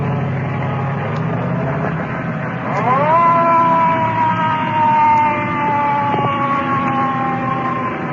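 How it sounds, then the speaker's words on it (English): A 1955 ambulance siren wails in rising and falling sweeps as the vehicle pulls away through city traffic at night, loud at first and holding steady with faint traffic noise beneath. "Ambulance disappearing in the traffic."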